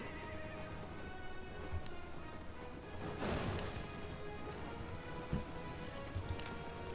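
Video game horse in Albion Online neighing and clopping its hooves over a steady rain-like ambience, with a louder whinny burst near the middle.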